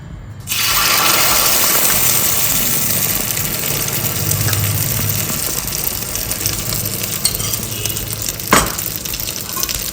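Beaten egg with onions poured into a hot pan for a thick village-style omelette, a sudden loud sizzle that holds steady and close, with a brief knock near the end, no speech.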